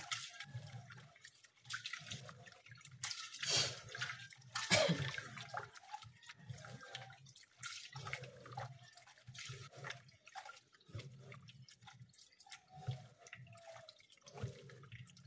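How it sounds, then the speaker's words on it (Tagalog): Water is poured and splashed into a pot of rice being prepared for cooking, with irregular trickles, drips and sloshing at close range in a quiet room. "Yan na din tubig para itak-ang siya"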